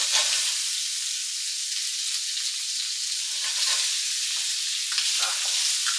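Butterflied shrimp pan-frying in oil until lightly golden for a Cantonese stir-fry, giving a steady, close, bright sizzle that hisses continuously with a few sharper crackles and no talking.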